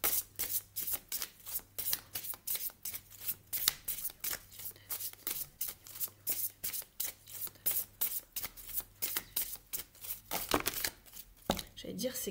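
Tarot cards are shuffled in a fast, steady run of crisp riffling bursts, close and fairly loud, with a low hum underneath and no speech.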